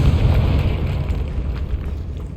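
A fiery Confringo blasting spell explodes in Hogwarts Legacy, a loud, sustained rumbling boom with crackling debris that fills the whole moment without any talk.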